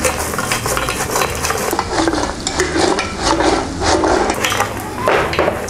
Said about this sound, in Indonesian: Selanjutnya kita masukkan ikan yang sudah digoreng.